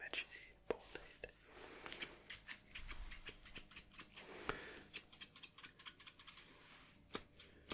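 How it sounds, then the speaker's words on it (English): Thinning scissors snip through hair in a barbershop setting, a close, crisp series of rapid metallic clicks coming in bursts, with soft whispering underneath. "And enough with the thinning scissors for now."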